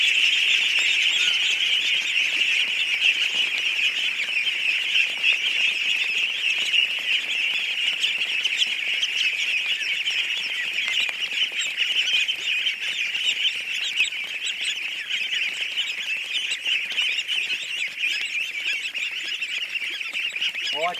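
A dense, continuous chorus of high-pitched duckling peeps fills the space, many tiny voices overlapping steadily and close with no pauses, without any clear flapping.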